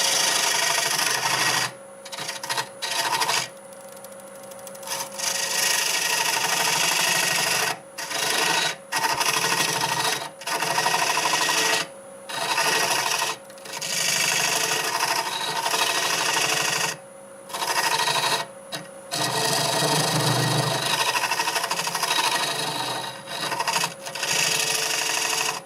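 A lathe tool cuts a dovetail into spinning black walnut, giving a steady loud scraping rasp with the hum of the turning lathe. The cut stops and restarts in short breaks throughout.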